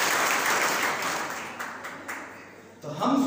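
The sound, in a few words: audience applause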